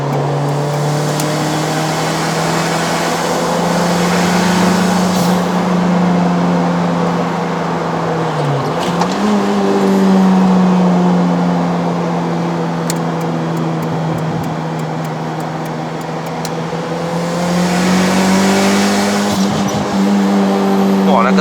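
A converted 1996 Mitsubishi Lancer Evolution VI revs hard at high rpm on a Malaysian test drive. Its loud in-cabin engine drone climbs, dips briefly and climbs again, with people talking over it.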